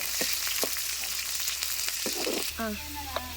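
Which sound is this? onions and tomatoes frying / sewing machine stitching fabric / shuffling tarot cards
onions and tomatoes frying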